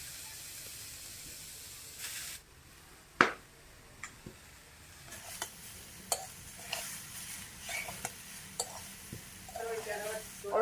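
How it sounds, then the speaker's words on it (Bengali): Grated coconut is stirred in a hot pan for a sweet filling, a faint hiss beneath a series of scattered scraping knocks and clicks from the utensil, quiet and close. "নারকেলটা আমি এখন গরমে দিয়ে দিচ্ছি।"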